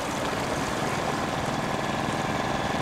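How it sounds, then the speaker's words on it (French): A boat's motor runs steadily near dolphins on Chilika lake, a loud, continuous droning hum with broad hiss that holds unbroken throughout, with no voices. "ce pilote de bateau n'a pas coupé son moteur à proximité des dauphins"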